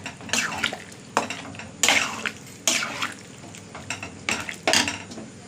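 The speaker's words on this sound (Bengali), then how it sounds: "এবার আমি এর মধ্যে কাবলি ছোলাটা দিয়ে দেবো। দিয়ে ভালো করে ফুটে দিই।" Kabuli chickpeas being stirred in a pan for a vegetarian chana ghugni, a series of rhythmic scraping clatters of spoon against metal roughly once a second, close and clear with no talking.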